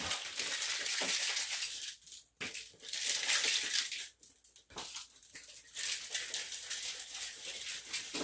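A Black Eyed Susan cocktail with pineapple juice rattles and sloshes in a shaker, loud ice-laden bursts of shaking broken by short pauses.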